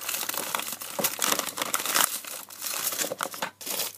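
Aluminium foil is crinkled and crushed by hand for clay modelling, close and crisp, in several bursts of rustling with short pauses between them.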